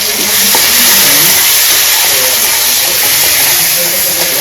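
Onions and tomatoes fry in a pan in a home Bengali kitchen, giving a steady bright sizzle and hiss throughout, with someone talking faintly beneath.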